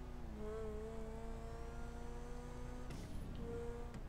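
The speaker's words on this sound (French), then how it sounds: "Prends du kiff les sorties de pot d'échappement, je sais pas si vous entendez" Car exhaust droning steadily in a space-themed mega ramp racing video game, a low engine hum with whirring tones, briefly interrupted by a burst of noise near the end.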